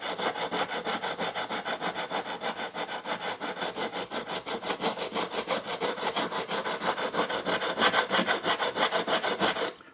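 Steady back-and-forth sanding strokes on the wooden hull of a Vanguard Models Fife model ship, a dense rhythmic rasping repeated about three times per second, close and loud throughout with no talk.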